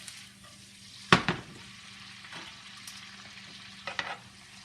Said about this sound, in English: We're just sauteing them in a blend of olive oil and butter.